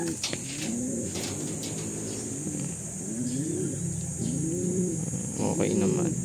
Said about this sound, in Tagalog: Ito yung mga young birds.